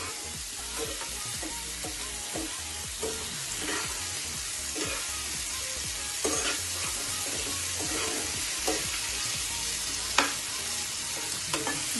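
Tomato and capsicum fry in a pan with a steady sizzle, while a utensil stirs and scrapes in short irregular strokes and a few sharper clinks stand out.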